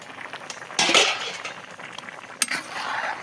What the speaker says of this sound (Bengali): এই মাছ দিবেন নিচ্ছি, ঢাকনা দিয়ে ঢেকে দিই।